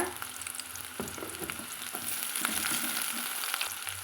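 Onions and curry leaves sauté in a pan with a constant hissing sizzle, while a spoon scrapes and stirs in scattered clicks, close and moderately loud.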